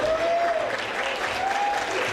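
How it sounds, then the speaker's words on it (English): A gala audience breaks into spontaneous applause, a dense, continuous burst of many hands clapping at close range, with a thin whistled tone rising briefly above the crowd. "Thank you for that spontaneous applause."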